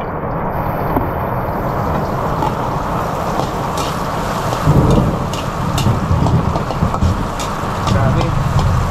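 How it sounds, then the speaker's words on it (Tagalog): Heavy rain pours steadily and loudly in a Philippine home, with rumbles of thunder rolling through and a louder burst midway; the downpour is close and continuous throughout. "Walang tigil ang ulan."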